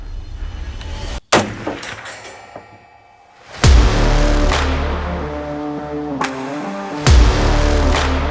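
Sharp, loud gunshot reports from a .450 Bushmaster rifle fired outdoors, one crack early, a heavy blast at the midpoint and another near the end, each followed by a ringing, rumbling echo.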